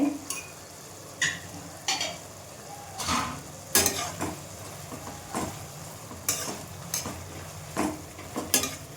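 Tomato pachadi cooking in oil in a pan, stirred with a utensil: a low sizzle runs beneath repeated sharp scrapes and clinks coming every second or so, close and fairly quiet.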